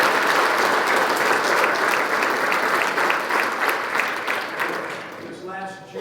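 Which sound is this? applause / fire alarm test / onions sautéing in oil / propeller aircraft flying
applause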